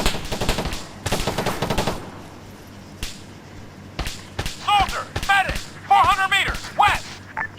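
Rapid bursts of automatic gunfire in the video game Arma 3 crackle in quick volleys, with scattered single shots and a voice shouting in between.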